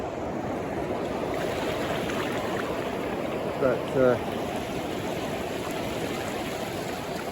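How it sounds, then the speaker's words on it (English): Water flows out of a lake through an opened channel into the sea where a beach once stood, a constant broad rushing roar with a brief spoken word partway through. "the water is flowing out of the lake into the sea"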